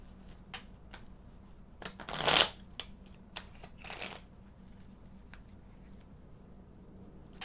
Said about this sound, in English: I'm gonna consult the cards real quick